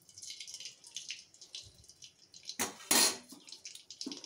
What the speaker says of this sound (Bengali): কড়ার মধ্যে গোটা গরম মশলা আর তেজপাতা ফোড়ন দেবো আগে